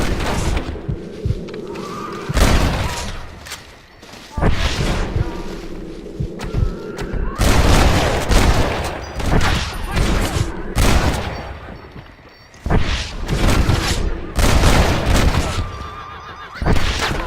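Rapid gunfire bursts ring out repeatedly amid a chaotic scene, with horses whinnying and shouting voices mixed in, loud and close throughout.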